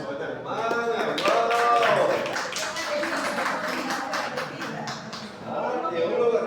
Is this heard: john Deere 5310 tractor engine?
no